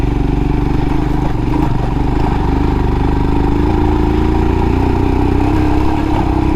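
Royal Enfield Himalayan motorcycle on Shinko 804/805 tires ridden a little faster over gravel, washboard and corners, its engine a loud steady drone with road rumble throughout.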